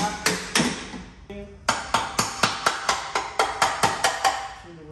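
A screwdriver tapping on the differential cover of a Ford Falcon, sharp metallic knocks at close range: two strikes, a short pause, then a steady run of about a dozen evenly spaced ringing taps.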